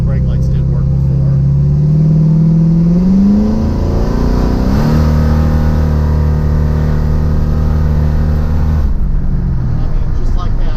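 A 1933 Ford Tudor with a big block engine accelerating, a loud, close, deep engine roar that rises in pitch, shifts around midway and keeps pulling hard before dropping off near the end.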